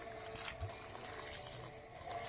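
Liquid trickles and splashes steadily into a cooking pot during a kitchen session, a soft continuous pouring sound close to the microphone with no talking.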